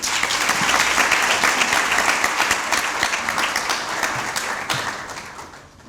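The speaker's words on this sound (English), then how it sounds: "A round of applause." Sustained audience clapping at a law school moot court ceremony, a dense even roar of hands that tapers off toward the end.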